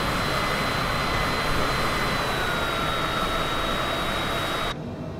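A jet airliner in a flight simulator game drones with a loud, steady engine roar and a faint high whine, continuous and unbroken until it cuts off abruptly near the end.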